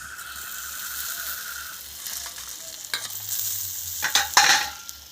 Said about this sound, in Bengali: এবার এই গরম অবস্থায় আমি চিনির শিরার মধ্যে দিয়ে দেবো